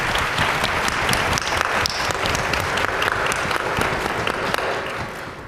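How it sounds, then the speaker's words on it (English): Conference keynote audience gives sustained loud applause for clinical trial participants, dense clapping filling the room evenly and tapering slightly at the end. "I want everyone to give a huge round of applause."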